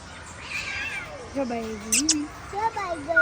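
A cat at a cow shelter meows a few times, drawn-out mewing calls over a soft background hiss, fairly close but not loud.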